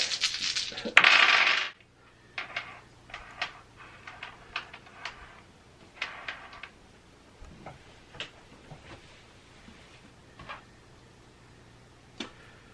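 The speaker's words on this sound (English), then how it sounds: "Oh, I've got all these dice, this is awesome." Dice for the Railroad Ink board game clatter in a loud rattling burst at first, then a run of sharp separate clicks and taps as they are handled and set down, with no talk.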